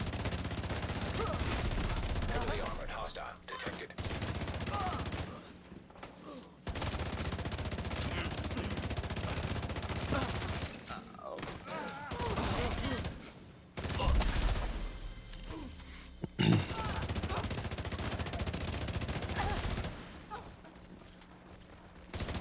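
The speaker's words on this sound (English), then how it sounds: "that guy was shooting me with a shotgun the entire time behind me" Gunfire in the video game Division 2, including shotgun blasts, rattles in loud sustained bursts with short pauses between volleys, dense and close throughout.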